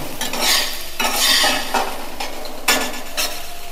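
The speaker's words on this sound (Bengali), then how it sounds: "ডালটাও ভাজা হয়ে গেল আর আদা রসুনও মোটামুটি ভাজা হয়ে যাচ্ছে।" Red lentils frying with ginger and garlic in a pan, bursts of sizzling as a spoon stirs and scrapes, rising and falling in several short waves, close and loud.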